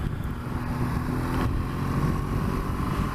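A BMW S1000XR motorcycle engine pulls at low revs on a road test ride, a steady close drone with road and wind noise and no talk over it.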